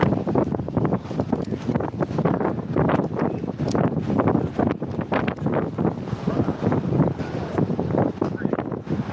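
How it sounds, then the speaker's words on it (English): Strong outdoor wind buffeting a microphone, a continuous rough roar with gusty bursts throughout, loud and close, with a voice occasionally under it. "The wind is something else."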